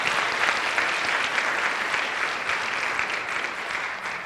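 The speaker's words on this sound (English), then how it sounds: "Please give our speakers another round of applause for their outstanding work" A lecture audience at a public health grand rounds session gives the speakers a round of applause, a thick, even wash of clapping that continues without a break.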